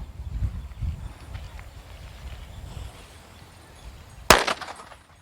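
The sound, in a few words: nattu vedi firecracker bursting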